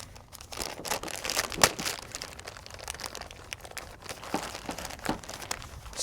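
Plastic zip-top bag holding an Edelman 71350 hose patch kit being pulled open, with steady crinkling and crackling throughout and one sharper rip near the start, close by and without talk.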